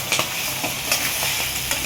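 Egg Maggi noodles stirred in a hot pan, scraping strokes recurring every fraction of a second over a steady background sizzle.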